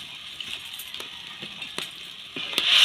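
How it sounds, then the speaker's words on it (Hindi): Drumstick leaves being stirred into moong dal in a pan, a faint soft scraping and light clinks of a spoon against metal repeating every half second or so, ending in a brief rise of sizzling. "तो अभी मैं इसको मिक्स कर रही हूँ अच्छे से"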